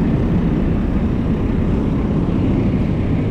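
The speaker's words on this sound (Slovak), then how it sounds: "A toto, čo tu hučí, je asi lietadlo, lebo sme blízko letiska." A low, steady roar of an airplane near an airport on Okinawa, Japan, a constant broadband hum filling the background with no voices.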